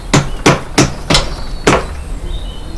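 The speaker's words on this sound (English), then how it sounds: "you need a hammer to whack them in" A hammer whacks seals into place on a refit job, five sharp, loud close blows at roughly even intervals with a slightly longer gap before the last, no voices.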